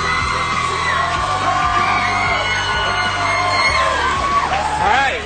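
Concert crowd at a live performance screaming and cheering loudly and continuously, with a dense wash of yelling and whoops filling the whole stretch.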